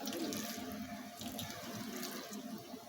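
Water poured from a vessel onto a potted plant gives a quiet, steady splashing flow heard close and alone.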